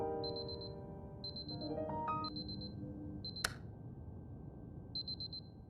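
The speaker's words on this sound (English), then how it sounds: "you have to stop the alarm clock every time before entering the hallway" In the video game Superliminal, an alarm clock beeps in short repeated high bursts, with a sharp click as it is stopped and other game tones layered over a low ambient hum, then the beeping resumes faintly.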